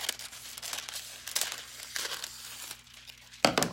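Burgundy Roses decorative foil sheet being clipped and crinkled, with soft bursts of rustling and crackling close by, then a sharper crinkle near the end.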